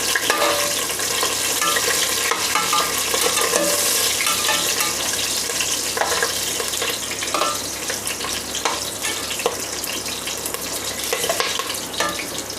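Fennel seeds, star anise and green chilies sautéing in hot oil in a pan for vegetable biryani: a loud, continuous sizzle with scattered stirring clinks, heard close up with no talking.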